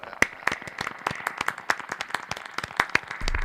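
A small live audience at an EP release party claps for a few seconds, with scattered sharp individual claps rather than a dense roar, fairly close and steady before fading out.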